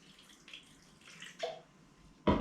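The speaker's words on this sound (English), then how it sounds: "So I'm just going to add a little bit more water." A little water is poured onto dry bread dough, soft faint trickles and drips, then a brief louder splash at the end, close by, with no talking.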